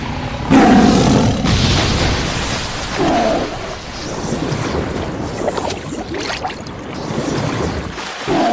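A tiger in the animated series Revenger roars loudly and close, in several rough, drawn-out bursts with gusty noise between them.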